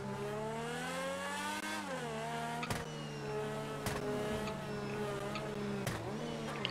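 A Ferrari pulling away in GTA 5, its engine droning steadily with rising and dipping revs as it shifts, plus a few sharp clicks and knocks over the continuous motor hum.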